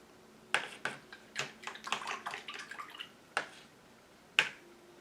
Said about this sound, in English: I've rinsed off my brush